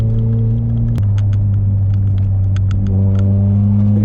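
A Ford Fiesta ST180 Stage 3 lapping the Brands Hatch circuit: a loud, close in-car engine drone with a sudden gear change near the one-second mark, then steady rumbling and light rattles.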